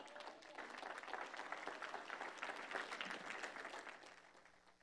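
A church congregation gives a round of applause during a service, a faint, distant wash of many hands clapping that holds steady and then tapers off.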